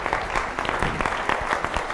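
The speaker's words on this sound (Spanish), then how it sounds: "Un aplauso para ella," A seminar audience at a Spanish-language leadership talk applauds one of its members, a short burst of close, lively clapping that runs evenly for about two seconds with no speech over it.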